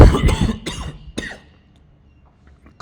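Several sharp coughs burst out close by in quick succession during a spoken religious discourse, followed by near silence and faint room noise.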